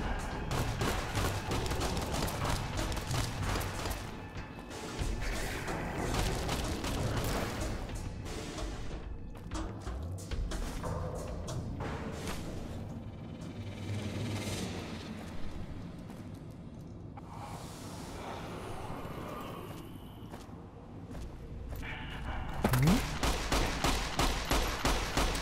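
Sustained gunfire and fusillade bursts from Fallout: New Vegas fill the scene, dense and continuous with thuds and a few whooshes, ending in a louder cluster of shots.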